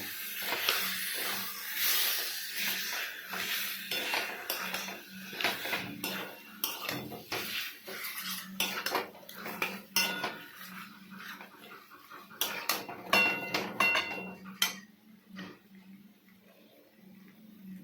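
Salt-and-turmeric marinated meat being stir-fried in a pan, with frequent clattering scrapes and knocks of a utensil against the metal pan over a soft sizzle, close by, without talk.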